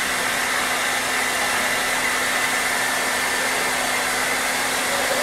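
A blow dryer drying a Rottweiler after a bath roars continuously at close range, a steady high-pitched whooshing hum with a faint tonal whine and no voices.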